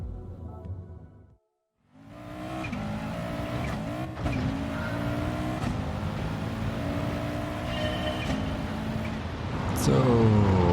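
An Audi Quattro S1 Pikes Peak Group B rally car in Gran Turismo Sport revs hard through gear changes on a night stage in Sardinia, a loud continuous engine roar with brief skids.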